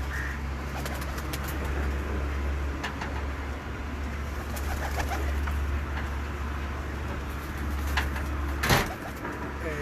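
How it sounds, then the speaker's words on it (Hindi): Pigeons cooing on a rooftop loft, a steady soft murmur of coos under a constant low hum, with a brief louder knock near the end. "ये वाला कबूतर"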